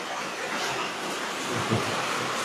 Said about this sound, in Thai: โอ้ยฝนมาแล้ว ได้ยินอยู่บ่